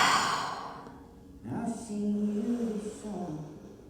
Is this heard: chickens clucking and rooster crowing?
no